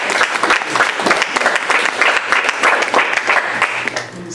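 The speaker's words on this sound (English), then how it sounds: "We gotta give him a round of applause for that." A board meeting audience breaks into sustained applause honoring a longtime levy committee member, dense clapping from many hands filling the room steadily for several seconds without letup.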